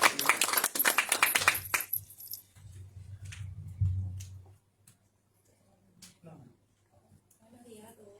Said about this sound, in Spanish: Les pido un aplauso para Cintia